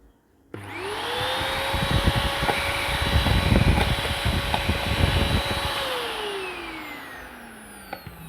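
An Eureka Forbes Compact 700 watt vacuum cleaner switches on with a click and runs with a steady, loud whooshing whine and airy suction rush, then powers down and winds off.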